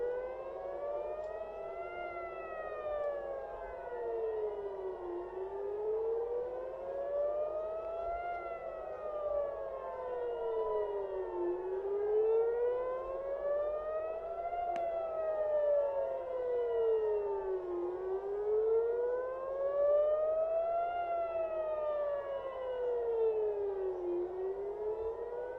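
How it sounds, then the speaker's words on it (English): Air raid sirens wail over the Tel Aviv skyline. Several tones rise and fall in slow overlapping cycles and drone on continuously for the whole stretch, steady and loud with no voices. "sirens are lit up over the Tel Aviv skyline"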